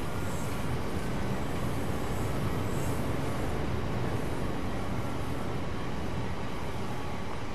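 A high-speed train at London Paddington in Train Sim World gives a steady, dense rumble and rolling rail noise, continuous and fairly loud with no clear breaks and no voices.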